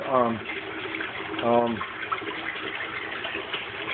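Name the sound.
water flowing out in DIY aquaponics tank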